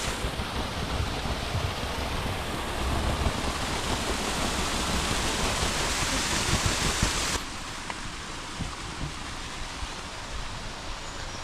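A mountain waterfall on a hike up Wank mountain in Germany roars with a steady, dense broadband rush that fills the air. Partway through, the sound drops to a slightly softer level.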